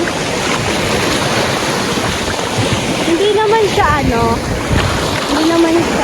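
Strong sea waves surging at a beach at Burias, a continuous loud roar of surf with wind buffeting the microphone, and a person speaking briefly over it.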